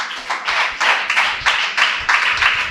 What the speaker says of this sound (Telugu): చప్పట్లు కొట్టండి ఈ మాటకి